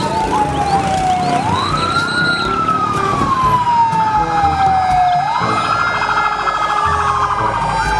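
A loud, continuous wailing siren from a toy fire truck, rising and falling in long sweeps, close and electronic in tone.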